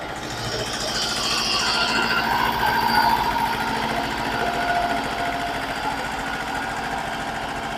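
A small tractor engine chugs and rattles continuously, with a busy mechanical clatter of its rotary tiller working a field being prepared for strawberries, steady and close.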